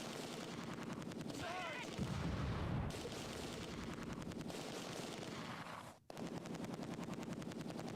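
Enemy mortar fire in the World War II strategy game Close Combat 2: A Bridge Too Far, heavy booms and a steady rattle of distant battle, with a brief voice partway through.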